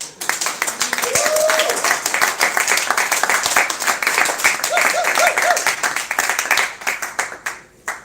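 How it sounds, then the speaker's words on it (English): Applause at a film festival press conference rises right after shortlisted titles are announced, steady hand clapping from a seated crowd that thins out near the end, with scattered voices and chatter beneath. "Applause."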